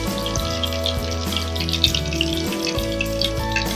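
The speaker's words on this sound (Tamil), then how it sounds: "நம்மளுடைய சிக்கன் வந்து நல்லா ஃப்ரை ஆகிடுச்சு" Chicken fries in hot oil for a Tamil-style crispy chicken fry, a loud close bubbling hiss that runs continuously and evenly, alone with no voices.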